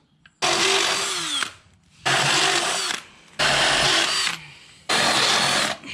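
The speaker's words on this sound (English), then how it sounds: "Now we know exactly where we gotta drill our holes." A power drill runs in four bursts of about a second each, whining loudly into the metal of a Toro Timemaster 30-inch mower, with short pauses of quiet between them.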